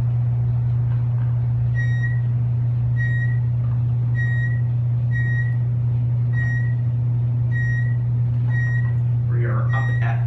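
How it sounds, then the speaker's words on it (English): Regular short electronic beeps from an Otis Elevonic 411 traction high-rise elevator, sounding about once a second over a loud steady low machinery hum, with a brief rustle near the end. "It has both beeps."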